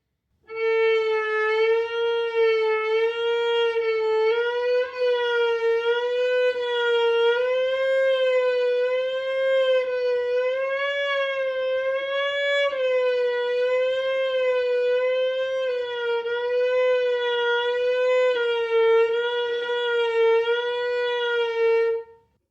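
A bowed violin holds one sustained note with a slow, steady wavering vibrato, continuous and loud for over twenty seconds, with no talking.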